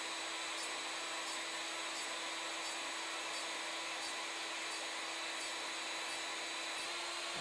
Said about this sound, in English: Next, we milled the straight section of the flute using an 1/8-inch step over to give us a beautiful finish.